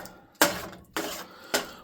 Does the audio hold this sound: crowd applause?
no